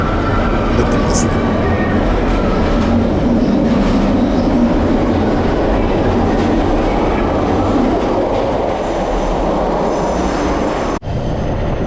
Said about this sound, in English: This is probably the United States' most famous mass transportation holiday train.